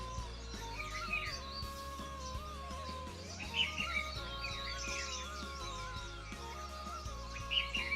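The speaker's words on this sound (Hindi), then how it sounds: "आप लोगों ने पक्षियों की आवाज़ सुन रही होगी," Birds chirp in the early morning at Churdhar Mahadev mountain temple in Himachal, with short bright tweets recurring every few seconds over steady music in the background.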